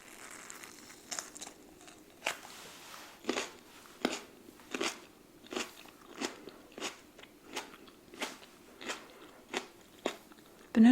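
A fully red, slightly softened banana pepper is bitten and chewed up close, giving about a dozen crisp, crunchy bites spaced a second or so apart with quiet chewing between.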